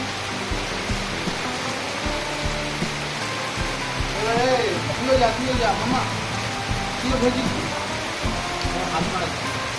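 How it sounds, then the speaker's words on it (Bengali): Heavy rain pours outside a village house, a dense steady hiss that stays loud throughout, with people chatting and laughing close by over it. "অনেক জোরে বৃষ্টি হচ্ছে"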